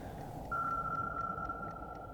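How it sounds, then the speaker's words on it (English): Sonar pinging from an escort warship closing in, heard inside a submarine in Silent Hunter 3: a steady high ping tone holds for about a second over a low rumbling hull background, followed by faint repeating echo ticks. "What you're hearing is pinging, and it's not good."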